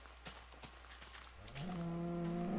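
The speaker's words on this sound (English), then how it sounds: "I can't take your excessive mooing" A Minecraft cow lets out a long, loud moo in the second half, preceded by faint clicks and scattered game noises; a single drawn-out call close to the listener.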